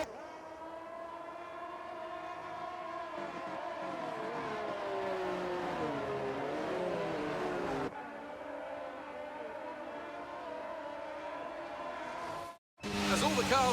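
Race cars on a formation lap in a racing broadcast, engine tones droning and rising together in a steady layered hum, with a brief cut before the sound returns louder at the end.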